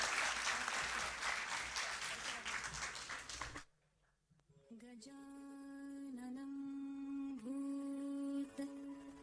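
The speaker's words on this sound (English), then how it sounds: "A big round of applause, please" Audience applause at a sports and cultural program for Spinal Cord Injury Day, loud and dense for several seconds, then cutting off abruptly into quiet before a sustained sung or droning tone takes over.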